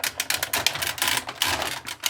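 Plastic Transformers toy legs fold and peg together in a rapid run of sharp, close clicks and snaps, irregular and bunched over about two seconds.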